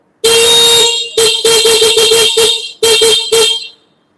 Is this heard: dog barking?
no